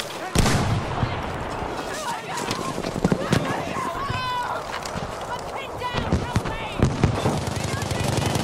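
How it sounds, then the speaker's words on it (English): Booms and blasts of a video game artillery barrage on a World War I battlefield at Arras, dense rolling explosions with gunfire and shouting voices throughout. "Artillery barrage, soldier, right away!"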